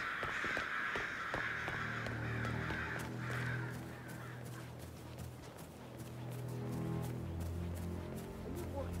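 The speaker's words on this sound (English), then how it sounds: "It's the birds. They're making a racket" Crows caw repeatedly in the Hitman 3 Dartmoor level, a loud, busy racket of overlapping calls over a low game soundtrack, with a brief clopping sound partway through.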